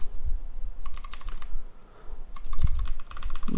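Computer keyboard keys clatter in two quick bursts of typing, close and clear, separated by a short pause, with no talking.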